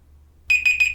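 An Android clock app's timer alarm, running on a MacBook Pro, bursts in after a moment of quiet with four quick, loud, bright electronic beeps in a steady repeating pattern.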